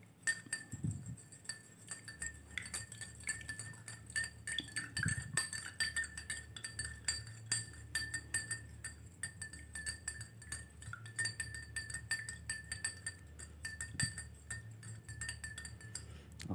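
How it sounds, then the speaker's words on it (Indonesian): A spoon stirs inside a glass, giving repeated light clinks and taps at an uneven rhythm against a quiet background. "kira-kira setengah sendok makan atau satu sendok makan kita aduk"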